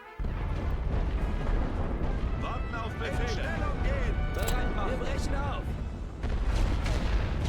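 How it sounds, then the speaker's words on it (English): Heavy artillery bombardment in The Great War: Western Front, with a steady barrage of distant booms and rumbling shell impacts that keep going under a man's ongoing speech. "Now that they're running, I'm going to hit the area with heavy artillery."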